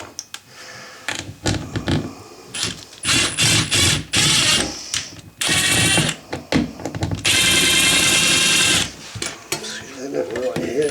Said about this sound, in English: So now, I'm going to run some of these screws in here to help anchor.